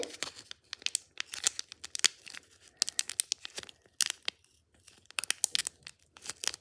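Plastic packaging of toy food for Littlest Pet Shop figures being torn and crinkled open in bursts of sharp rips and rustles, close and fairly loud, with brief quiet gaps and no talking.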